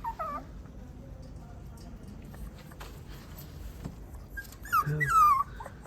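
Small dogs whimper and yip in short, high whines, louder toward the end, over a faint background hum.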